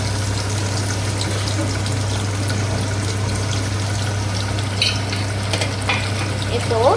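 Small shallots frying in hot oil, a loud, constant close sizzle with an underlying hum and occasional stirring clinks.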